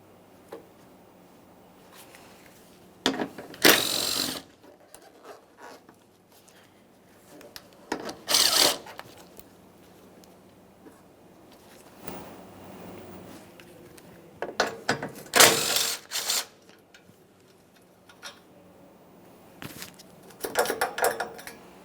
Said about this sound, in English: we're going to remove our 10mm bolt here for the headlamp assembly, making its way through the bracket, and also the bolt located just above it